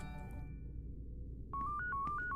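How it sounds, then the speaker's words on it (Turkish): A phone in the video game Yuppie Psycho rings with a short electronic melodic trill of stepped beeps, entering after a quiet low hum. "Telefon çalıyor."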